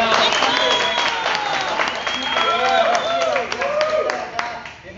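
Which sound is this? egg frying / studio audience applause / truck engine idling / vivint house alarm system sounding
studio audience applause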